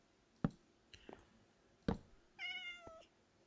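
A cat in Minecraft gives several short meows spread apart, the last one drawn out and tonal, with quiet soft clicks between them and no talking.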